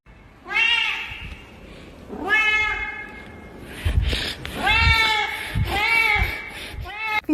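A cat meows repeatedly, several drawn-out, loud, close calls in a row with short pauses, while a person talks over parts of them.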